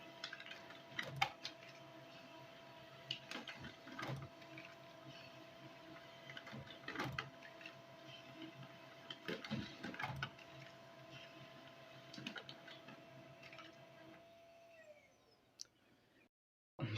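A printer runs through a page, printing the back side of a book after its start button is pressed: a steady mechanical whir with a sustained tone, punctuated by irregular clicks and ticks, fairly quiet, before the machine winds down and stops.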